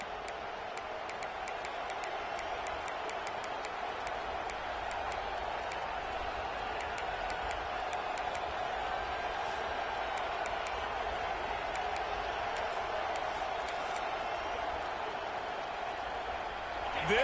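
A packed stadium crowd at an Oregon Ducks football game against USC roars in a dense, sustained wall of cheering and noise, steady and loud throughout, with a commentator's voice faintly over it.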